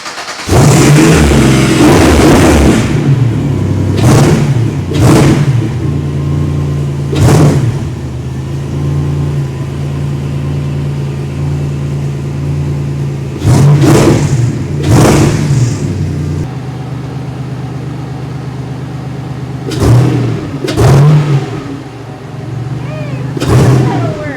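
A home-built off-road buggy's engine fires up and settles into a loud idle, then revs in short, sharp bursts spread across the stretch, each surge rising and falling back to idle.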